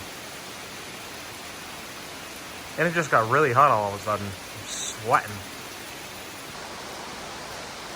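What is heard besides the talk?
heavy rain pouring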